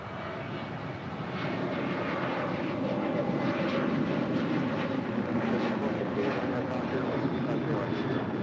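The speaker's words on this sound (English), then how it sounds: "Next departure here on the south side, American Airlines Flight 2332 heading to Indianapolis," American Airlines Boeing 737-800 departing LAX, a broad jet engine roar that swells after about a second and holds loud and steady, with faint voices underneath.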